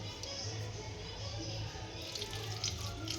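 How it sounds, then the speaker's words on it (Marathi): Water poured over cut brinjals in a bowl, a soft steady trickling and splashing that is faint and close, with no clear speech. "आता मी ही वांगे त्याच्यात पाणी टाकून घेत आहे"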